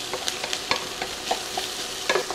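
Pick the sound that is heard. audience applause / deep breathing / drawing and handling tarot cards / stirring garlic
stirring garlic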